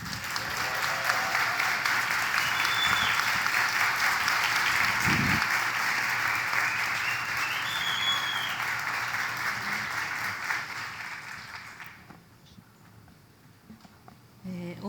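A conference audience at the Ocean Race Summit in Itajaí applauds a speaker from a ministry of Indigenous peoples with a steady, dense wash of clapping that holds for about twelve seconds, then fades to near quiet.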